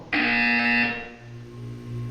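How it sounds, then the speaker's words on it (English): A loud, harsh electronic buzzer in the game Portal 2 blares steadily for just under a second, then cuts out, leaving a low hum behind. "When you hear the buzzer, look down at the floor."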